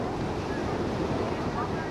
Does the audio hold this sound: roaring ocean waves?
yes